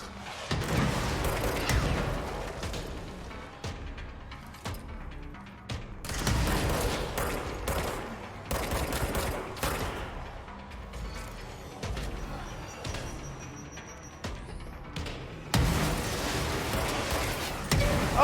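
Grenade blasts and bursts of gunfire from the video game Control boom and crackle in repeated loud volleys, with sharp shots and heavy impacts spread across a dense, chaotic firefight.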